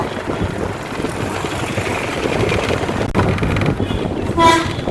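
A train rumbles past at a railway crossing near Ambasamudram, Tamil Nadu, heard from a bus, with a steady mechanical roar, and a short horn toot rings out near the end.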